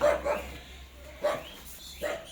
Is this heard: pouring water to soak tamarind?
no